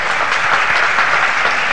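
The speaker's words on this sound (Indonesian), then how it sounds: "Tepuk tangan untuk Didik Nini Towo dan ya." A crowd applauds the performer Didik Nini Towo at a stage show, a thick, even wash of many hands clapping at once, loud and continuous for the whole short stretch with no voices over it.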